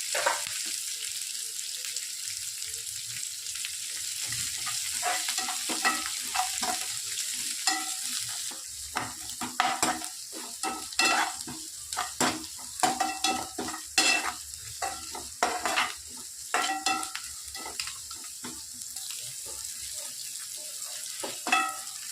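Onions sauté in a pan for idli upma, with steady sizzling and frequent spatula scrapes and stirring clatter for over twenty seconds, close and fairly quiet, no talking.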